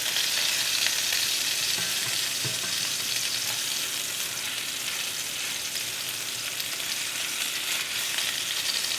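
A steak sears in a steel pan over moderate heat, producing a dense, even hiss of frying fat that holds steady and close throughout, with no one speaking.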